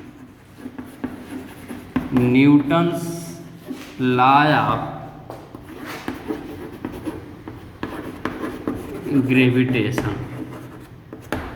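Writing on a board during a Class 9 gravitation lesson gives intermittent scratchy strokes, heard under a teacher's ongoing speech.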